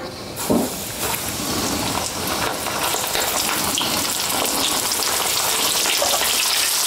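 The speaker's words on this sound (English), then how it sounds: "it's time to fry our calamari" Calamari deep-fries in oil heated to about 365–375°F, making a loud, dense, steady crackling hiss like heavy rain, with a brief louder burst near the start.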